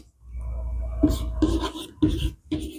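Pen scratching on paper while writing down a distance during a class 10 maths lesson, a few short close strokes in a quiet room.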